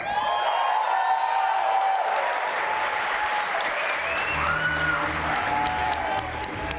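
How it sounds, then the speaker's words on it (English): Loud audience applause fills the room at a Dead by Daylight tenth-anniversary broadcast, steady clapping with a few cheers, continuing for several seconds. "Yeah, clap her up, clap her up."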